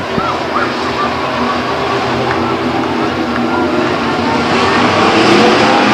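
A pack of race trucks roars at Stockton 99 Speedway, a loud, continuous engine drone building steadily as they accelerate, with an announcer talking over it.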